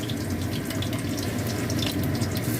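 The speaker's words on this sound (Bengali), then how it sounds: "এই তেলেতেই আমি কাঁচা লঙ্কা, কালো জিরে আর শুকনো লঙ্কাটা ফোড়ন দিলাম।" Green chilies, nigella seeds and dried red chilies tempering in hot oil in a pan: an even, continuous sizzling hiss, near and fairly loud, with faint crackles and no talking.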